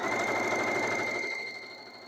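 A sewing machine stitches a fabric cooling neck wrap along its edge, a steady close, continuous whirring hum that fades slightly toward the end.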